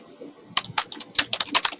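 Fingers tap on a computer keyboard in a quick, uneven run of crisp key clicks, close and fairly clear after a brief quiet start.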